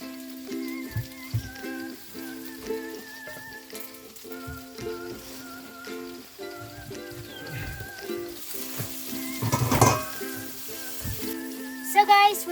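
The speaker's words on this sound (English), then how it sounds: "I'm gonna fry my fish." Fish frying in a pan over an outdoor forest cooking fire, a soft crackling sizzle under steady tonal background sounds, rising to a louder burst of spitting about two-thirds of the way through.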